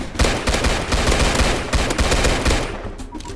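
Machine gun fire in a video game, a loud rapid burst of shots in close succession, with stuttering bursts that thin out toward the end, no voices.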